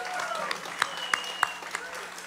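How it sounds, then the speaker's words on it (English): A summer concert audience applauds the event's volunteers, a short burst of soft, fairly distant clapping with a few sharper individual claps standing out over a hazy crowd background. "if everyone could give a big round of applause for the volunteers that make this happen"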